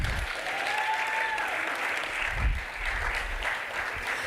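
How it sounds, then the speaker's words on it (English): An audience at a 2023 innovation week and industry summit applauds a winning web-app presenter, with loud, sustained clapping filling the room and a few cheers and voices mixed in. "clap for her"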